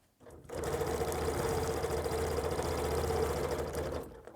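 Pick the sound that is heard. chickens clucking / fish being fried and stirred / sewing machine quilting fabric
sewing machine quilting fabric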